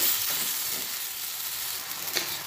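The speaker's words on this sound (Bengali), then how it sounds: "ভালোভাবে নাড়াচাড়া করে করে ভেজে নিচ্ছি" Bread upma frying in a pan as it is stirred, giving a bright, continuous sizzle with soft scraping strokes and a few small pops, close and alone.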